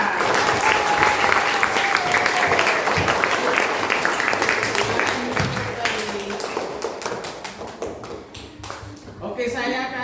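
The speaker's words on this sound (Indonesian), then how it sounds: "Tepuk tangan dulu buat kedua teman kita." Children in a classroom applaud two classmates, a loud, dense burst of clapping that slowly thins toward the end, with chatter mixed through it.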